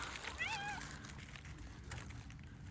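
A cat gives one short, rising meow nearby in an outdoor garden with a pond, slightly faint over steady background noise.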